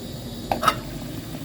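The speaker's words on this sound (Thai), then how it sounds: "น้ำเดือดแล้วครับ" Water simmers and bubbles in a pot for Thai tom yum with tilapia, with a steady soft hiss and a couple of small pops, close by.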